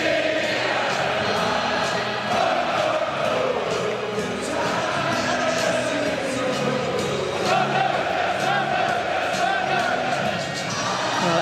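A large stadium crowd at an England vs Pakistan one-day international cricket match roars and cheers continuously, a dense swelling wash of voices with scattered whoops and shouts.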